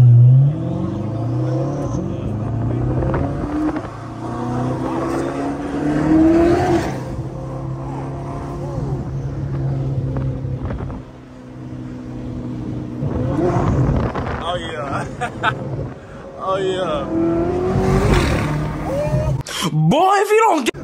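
Revving of a built Chevrolet C8 Corvette engine with exhaust pops, heard under steady conversation from nearby voices, the engine rising and falling with sharp crackles near the end.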